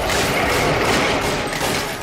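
Rapid gunfire from the 1999 film The Mummy, a dense, loud barrage of shots that fills the whole moment without pause, with no talk over it.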